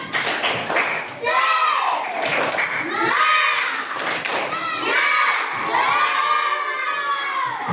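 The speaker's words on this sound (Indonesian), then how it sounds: "tepuk semangat" Schoolchildren in a classroom do a rhythmic spirit clap, loud patterned claps mixed with energetic shouted chanting from the whole group, continuous and close throughout.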